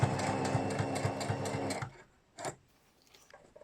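A sewing machine stitches a fabric book cover in a fast, steady mechanical run for about two seconds, then stops, leaving a quiet pause and one brief soft handling noise.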